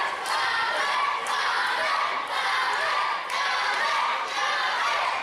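A wrestling crowd cheers and roars steadily at an indoor match, a dense, loud wall of shouting and noise with slight surges that carries on without a break.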